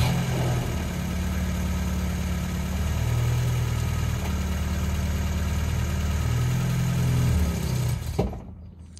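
A Lada car engine idling with a steady low hum that shifts pitch slightly, then cuts off abruptly near the end with a click.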